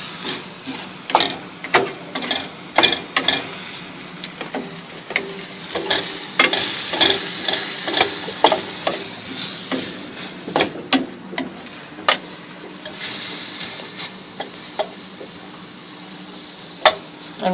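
Shrimp and pineapple sautéing over medium-high heat in a pan aboard a sailboat, a steady sizzle punctuated by frequent close clicks and scrapes of stirring.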